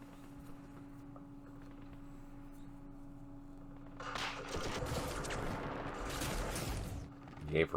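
Bursts of opportunity gunfire in a Campaign Series Vietnam war game set in the Battle of Hue, a dense crackling fusillade that erupts midway and rattles on loudly over a low steady hum.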